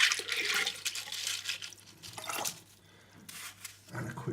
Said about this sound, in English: Quick rinse off the media.